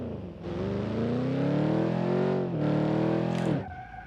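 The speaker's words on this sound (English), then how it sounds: "Let's just do a 60 to 0 brake test." An ETK W Series car in BeamNG.drive accelerates hard, its engine note climbing steadily through the gears with a brief dip at a shift before cutting off, followed by a short tire chirp, loud and close with no voices.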